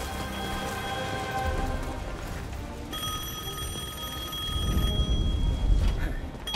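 In the Devil May Cry 5 video game, a telephone rings repeatedly through steady rain falling on surfaces, with the ringing tone fairly clear above the downpour and no voices.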